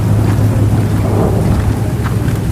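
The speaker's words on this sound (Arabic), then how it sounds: "الأجواء ممطرة الآن، مطر رذاذ زي ما انتم شايفين" Light drizzle falls in the misty southern highlands, a steady close hiss of rain with occasional soft rumbles and no voices.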